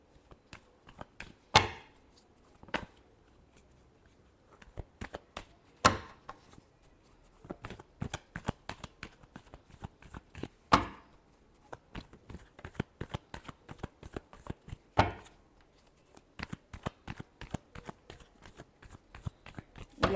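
Tarot cards are shuffled in a dry, papery flurry of riffles and taps, with a few louder slaps standing out among steady quick clicks, close up and without speech.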